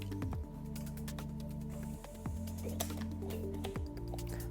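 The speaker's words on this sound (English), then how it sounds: "The very first step is now to pull the plunger out of the grease gun" A standard grease gun's plunger is pulled out, giving a series of mechanical clicks and squeaks alongside a looping, stepped tonal whir that repeats about every two seconds, close and fairly clear.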